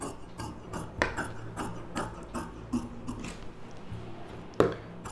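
Scissors cut through blouse fabric on a table, a series of close, crisp snips and clicks spaced about a second apart, with a louder sharp snip near the end and no talking.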